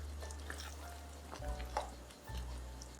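Shakshuka sauce with about 50 g of added cheese being stirred in a pan, giving a soft continuous sizzle with faint scraping of the spoon, steady and close, with no talking.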